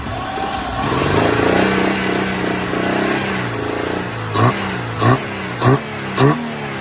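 A car engine revs hard on the freeway with a sustained loud roar, followed by several short, sharp throttle blips near the end.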